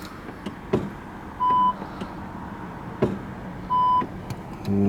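A Seat Leon sounds repeated reversing beeps, two clear electronic tones spaced about two and a half seconds apart, over quiet engine idle and faint clicks.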